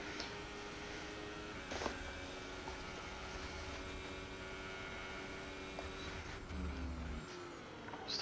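A racing car in a racing video game on a flying lap at the French Grand Prix holds a steady engine whine, with brief shifts in pitch midway and near the end, fairly quiet throughout.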